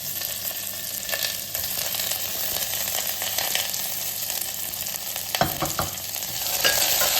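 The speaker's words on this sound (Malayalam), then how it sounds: "സ്റ്റാർ ഒക്കെ ഇട്ട് കൊടുത്തിട്ടുണ്ട് അതൊന്ന് മൂത്ത് വന്നിട്ടുണ്ട് അതിലേക്ക് സവോള ഇട്ട് കൊടുക്കുകയാണ്" Sliced onions sizzle in hot oil with whole spices such as star anise for a stew, giving a steady, close frying hiss with occasional stirring scrapes and no voices.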